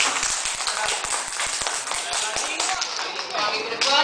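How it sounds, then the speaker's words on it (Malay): A classroom of pupils claps for a classmate, a dense patter of overlapping hand claps that carries on steadily, with a voice speaking over it. "Tepuk tangan kepada Haikal."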